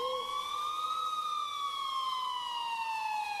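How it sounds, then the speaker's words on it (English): Police siren wailing in the distance, a single smooth rising-and-falling tone, steady and fairly faint, with no other sounds around it. "until I finally heard sirens in the distance."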